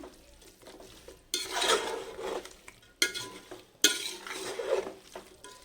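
A spoon scraping and clattering against a pot while chicken pulao is stirred, in several bursts separated by short pauses, with a faint sizzle in the gaps.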